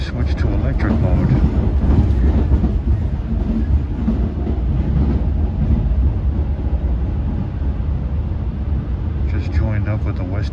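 A Long Island Rail Road commuter train, number 2791 from Patchogue to Penn Station, rumbles steadily along the rails with a deep, constant roar and faint clatter, while a person talks over it.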